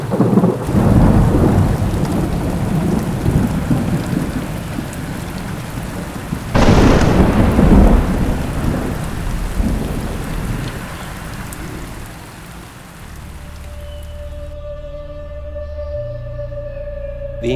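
A heavy thunderstorm in hill country: steady, dense rain pours throughout while a loud thunderclap cracks and rumbles partway through, and the downpour eases slightly toward the end as a low tone rises beneath it.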